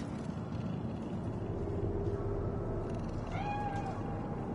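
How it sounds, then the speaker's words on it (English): A cat meows in Cyberpunk 2077, the calls rising over a steady background hum of the game's city ambience. "That cat?"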